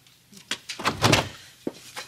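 An indoor door being opened in a sitcom scene, a few knocks and thuds of handle and wood close by, ending in a sharp single clack.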